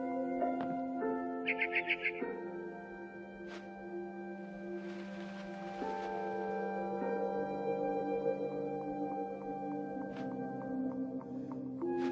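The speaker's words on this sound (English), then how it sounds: "Then I heard chirping outside my window. It was a barn swallow going back to her nest." A barn swallow chirps outside a window in the video game What Remains of Edith Finch. Brief bird calls sound near the start and then give way to sustained tonal game music and ambience, with no talk.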